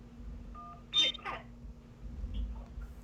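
Phone line connection tones from a live call-in show: a brief pair of dial beeps followed by a short burst of connecting noise, then low hum and faint voices.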